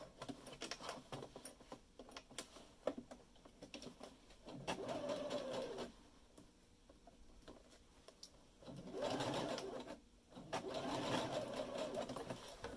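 A sewing machine stitches down elastic on a garment in bursts of steady mechanical whirring, with quieter pauses and handling noise between runs; loud and close.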